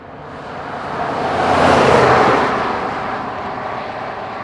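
A 2020 Ford F-350 Powerstroke diesel truck climbs a mountain road, its engine and road noise swelling to a loud broad roar midway and then easing back to a steady drone.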